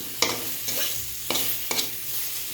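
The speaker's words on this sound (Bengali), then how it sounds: "এবার আমি এর মধ্যে ধনের গুঁড়ো, জিরের গুঁড়ো দিয়ে দিলাম। দিয়ে এটা আর একটু নাড়ব।" Spatula scraping and stirring coriander and cumin powder in a pan, four distinct strokes against a soft frying sizzle, close and fairly quiet.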